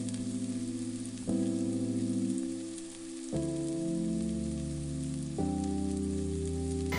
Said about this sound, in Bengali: আর চিড়েগুলো দিয়েও আমি 2 থেকে 3 মিনিট খুব ভালো করে ভেজে নেব।